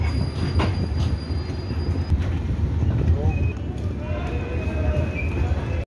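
Swatantrata Senani Superfast Express train pulling into Ballia station, a steady loud rumble of rolling carriages with rising wheel squeals and clanks, station noise all around.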